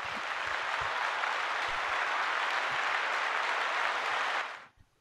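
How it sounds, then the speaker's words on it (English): An audience greets guests on a live real estate show with a steady, dense round of applause that holds evenly, then fades out quickly near the end. "Let's give them a round of applause, everybody."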